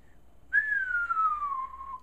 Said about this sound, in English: Let me give a whistle.